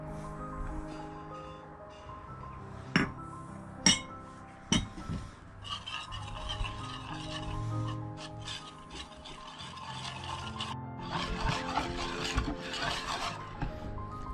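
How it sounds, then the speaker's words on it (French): Egg yolks and corn starch are stirred together in a bowl for a crème catalane, giving a steady close scraping and rubbing with a few sharp clinks of the utensil against the bowl. "nous allons mélanger les jaunes d'œufs, avec la fécule de maïs"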